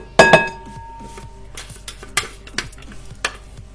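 Food being transferred into a large salad bowl: a loud clink of a utensil against the dish, then a series of softer scrapes and taps, close up, no talk.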